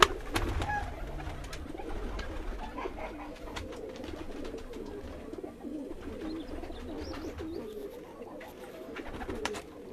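Pigeons in a rooftop loft cooing in low, rolling murmurs, several birds overlapping steadily and close by, with occasional wing flutters and light rustling throughout.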